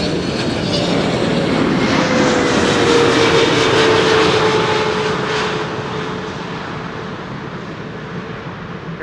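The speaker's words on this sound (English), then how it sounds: "Here's KLM flight 744 arriving from Lima in Peru" A KLM jet airliner arriving at Schiphol from Lima, Peru, passes close with a loud broadband engine roar and a falling whine, then fades steadily over about nine seconds.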